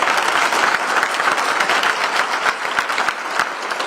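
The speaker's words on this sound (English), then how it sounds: "Let's give them a round of applause." Audience applause for a Young Marines color guard after posting the colors at a city State of the City address, steady dense clapping filling the room from start to finish, no talk over it.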